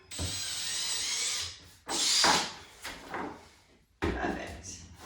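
A drill bores into hula hoop tubing in a couple of short, close bursts separated by pauses, with handling clatter between them and a voice speaking briefly.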